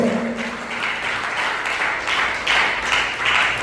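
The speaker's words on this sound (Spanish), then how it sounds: "denle un fuerte aplauso al Señor" A church congregation at an evangelistic vigil applauds for the Lord, a loud, steady wash of clapping that swells near the end, with faint voices mixed into the crowd noise.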